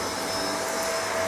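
A household vacuum cleaner running on an off-grid solar power station in a home office makes a steady, loud, continuous whine and roar with a faint tonal hum and no speech.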